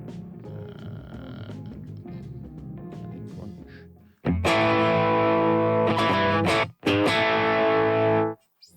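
Electric guitar through a NuX Trident amp with heavy distortion: a quieter, busy passage of picked notes, then loud sustained distorted chords ringing out, briefly cut once and resumed before stopping.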